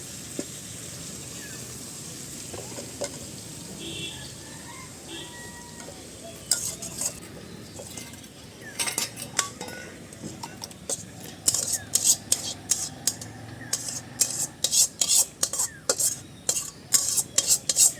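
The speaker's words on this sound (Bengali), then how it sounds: "চিংড়ি মাছটাকে সুন্দর করে বাটির মধ্যে বেড়ে নিলাম" Cooked prawns in a thick curry are scooped from a pan into a bowl in a home kitchen, with soft scraping at first, then repeated sharp metallic clinks and taps of a spoon against the pan and bowl.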